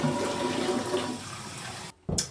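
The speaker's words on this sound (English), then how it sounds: "we're gonna go ahead and start my rinse right from the tap" Water runs from a bathroom sink tap for rinsing after a shave, a steady close rushing hiss that is briefly cut off, then resumes.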